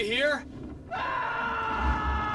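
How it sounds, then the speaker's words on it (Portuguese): A voice screams in a single sharp, rising cry during Alan Wake gameplay, followed by a low, sustained droning tone and dull rumbles. "e esse grito, Barry"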